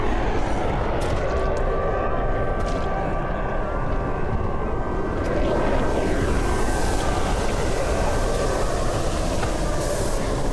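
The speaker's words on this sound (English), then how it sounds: "Kind of sounds like the plane." Propeller airplane in the video game Project Zomboid droning overhead as a steady, broad rumble with faint tonal hum, holding level across the whole stretch without clear rise or fade.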